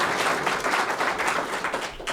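Applause soundtrack playing on a political talk program, a continuous wash of crowd clapping at moderate loudness, evenly textured and with no voices over it.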